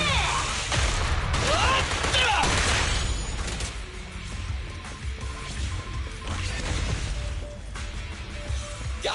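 Video game gunfire fired in a rapid burst of sharp crashing shots during the first three seconds, followed by softer scattered pops and ambient game noise.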